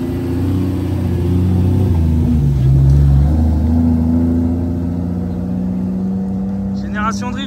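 Drift cars at Croix-en-Ternois rumble with a loud, sustained engine drone that swells and revs midway, joined by a brief higher whine near the end, with voices over it.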